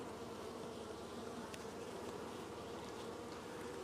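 Honey bees at an opened hive make a dense, continuous buzzing drone, close and even, with no voices over it.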